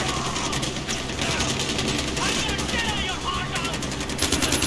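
Rapid automatic gunfire from the Far Cry 4 video game, dense and continuous, with sharp repeated shots close up and a voice talking over the shooting.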